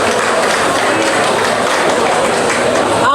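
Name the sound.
gala audience applauding the secretary general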